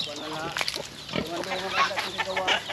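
Pig grunting inside a pen on a small free-range farm, several short snorts and grunts close by, mixed with a person talking over the animal sounds.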